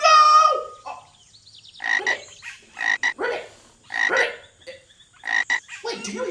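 A frog croaks in repeated bursts of raspy ribbit calls, loud and close, with a brief high whistle-like tone at the start and irregular gaps between calls.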